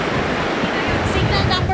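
Ocean surf surges against the shore of Kasiguran, Aurora, during a typhoon under a number 4 wind signal, a loud continuous roar of waves with wind noise buffeting the microphone.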